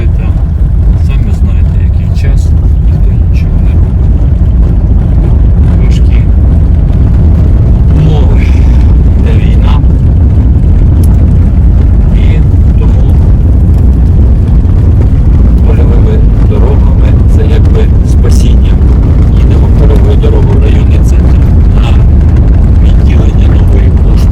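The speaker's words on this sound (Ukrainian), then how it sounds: "Їдемо польовою дорогою. Дорога у нас зовсім розбита." A small jeep drives along a badly broken rough field road, its loud, rumbling engine and jolting thumps filling the clip continuously at close range, with wind buffeting throughout.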